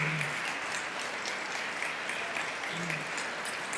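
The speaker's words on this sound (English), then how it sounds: "give them applause" Sustained audience applause in a large hall during the New York State of the State 2024 address, greeting two former governors: dense, even clapping continuing steadily for several seconds with no speech over it.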